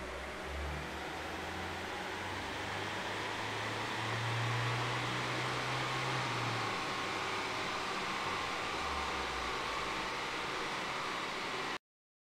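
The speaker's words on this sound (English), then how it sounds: "This is the dyno after run." A Ford Transit 2.2 TDCi van running on a chassis dyno, a sustained broad roar of engine and rollers with a low engine drone rising and falling midway, loud and continuous, then cutting off abruptly.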